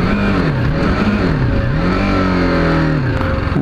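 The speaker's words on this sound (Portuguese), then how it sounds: "Vou tentar fazer uma redução aqui" BMW G 310 R motorcycle engine revving up and down through a downshift, a loud close continuous drone whose pitch swoops in repeated rises and dips, with no talking.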